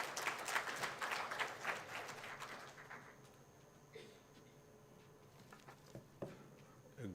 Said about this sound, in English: Dr. Pramod, welcome him with a round of applause, please.